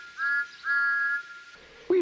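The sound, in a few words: toy train engine's whistle, peep peep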